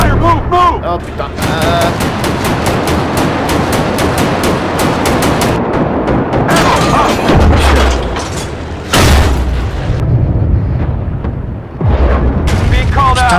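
Shells and gunfire crash through a tank battle in Armored Warfare, with repeated loud booms and bursts of fire layered over game voices and an excited player talking throughout.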